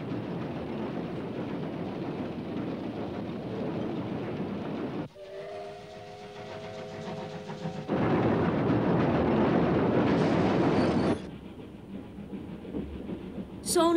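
A train travels through a long mountain tunnel in an animated series, a loud steady roar that drops away and returns in sections, with a drawn-out whistle tone in the middle and faint voices underneath.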